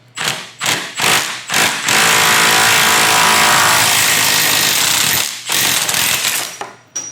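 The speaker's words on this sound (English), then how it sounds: "How will the Stubby Impact handle this?" A Milwaukee M12 Fuel 3/8-inch stubby impact wrench hammers loudly at a bolt, a few short bursts then a sustained three-second rattling run, followed by more brief bursts up close.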